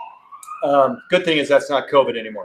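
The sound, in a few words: siren of a passing emergency vehicle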